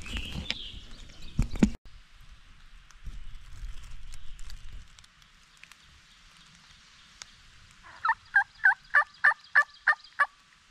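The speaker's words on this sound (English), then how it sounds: "There's birds gobbling up here above me." Wild turkey gobbler in Pennsylvania woods during a spring flintlock hunt: after some rustling and movement, a loud rapid series of about eight rattling gobbles rings out from nearby, clear over a quiet background.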